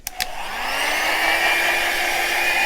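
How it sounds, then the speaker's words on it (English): A hair dryer switches on and blows steadily onto a gel printing plate, a constant whooshing airflow with a faint high whine, close by and without any talking. "hair dryer."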